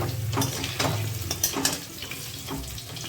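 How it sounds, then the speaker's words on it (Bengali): Potato pieces frying in hot mustard oil in a wok, a close, steady sizzle and crackle with a few stirring scrapes and small bursts. "তেল গরম হয়ে আছে আলু টুকরোগুলো তেলের মধ্যে দিয়ে লাল করে ভেজে তুলে নেব"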